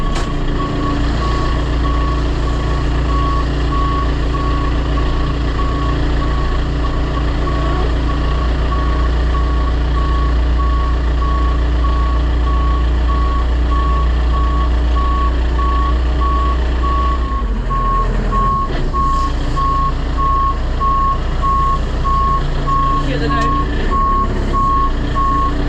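A lorry reverses in a yard with a steady, loud reversing beeper pulsing evenly throughout, over the low rumble of its idling diesel engine and brief hiss-like changes near the end.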